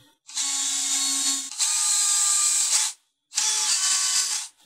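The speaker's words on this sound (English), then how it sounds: "Now I am going to pilot hole into this particle board with a drill bit" A power drill whirs steadily, boring a pilot hole through particle board in two long runs, pauses briefly, then spins up for a third burst, loud and close.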